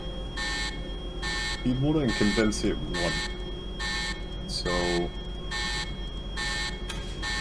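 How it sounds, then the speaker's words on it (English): In the Oakridge Nuclear Power Station video game, a control-room alarm sounds as a steady chain of evenly spaced electronic beeps that repeats throughout, with someone talking over it. "There's the alarm I was talking about"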